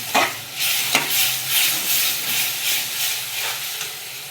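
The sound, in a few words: masala sautéed in a pan with water for fish curry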